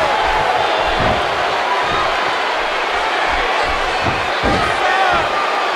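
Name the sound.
wrestling DDT slam onto the mat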